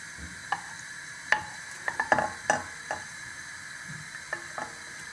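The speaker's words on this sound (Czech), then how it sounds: "Tak, sádlo máme rozpuštěné" Lard melting in a pot on the stove, giving a quiet low sizzle with scattered sharp ticks and pops, close and faint, with no talking.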